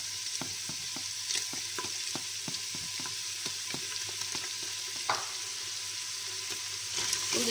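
Steady sizzle of chopped onions frying in oil, with soft, regular clicks and scrapes of stirring throughout; fairly quiet and close, no voices.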